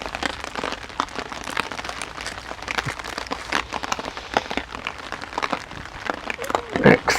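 Rain pattering on cover in a wood, a dense, steady patter of close drops with scattered louder hits, and brief rustling near the end.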